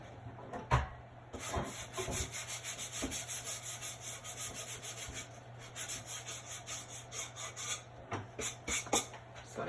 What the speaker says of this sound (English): I'm just going to sand that quickly over the trash can.